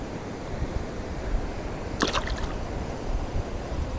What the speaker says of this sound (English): This water's really clear. It's got good flow to it.